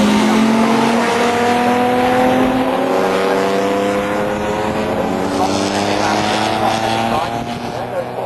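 Jaguar XJS race cars at Snetterton roar along the straight, a loud sustained engine drone with rising and falling harmonic pitch as cars pass, overlaid by continuous commentary.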